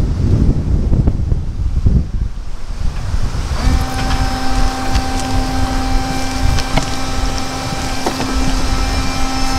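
Mopar Performance windshield washer spraying on a Jeep JL/JT, a loud steady rush of spray and wind noise, with a thin motor whine joining partway through and running to the end.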